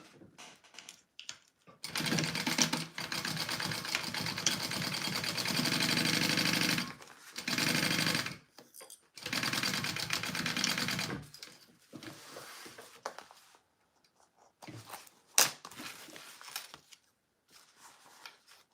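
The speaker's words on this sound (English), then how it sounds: "let's sew up the sides of our pocket and continue." A sewing machine sews up the sides of a pocket in several long, steady runs of mechanical whirring, separated by short pauses and light handling clicks.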